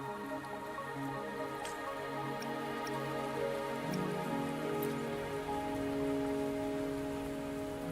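Steady rainfall in the video game Wuthering Waves, pattering on surfaces with scattered drips, continuous and moderately close for the whole stretch, layered over soft sustained game music with no voices.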